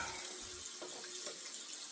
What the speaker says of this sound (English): I'm gonna rinse this razor well.